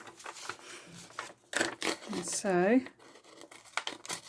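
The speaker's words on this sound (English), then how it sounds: "I also have scallop edge scissors here." Scallop-edge craft scissors snip through writing paper to make faux stamp embellishments, giving a few close, crisp cutting and crinkling bursts in quick succession, with someone speaking briefly between and after the cuts.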